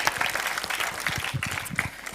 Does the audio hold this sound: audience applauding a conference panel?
yes